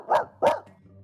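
A person's voice imitates a dog barking, giving two loud, sharp woof-like barks in quick succession, close up, followed by a brief quieter trailing sound.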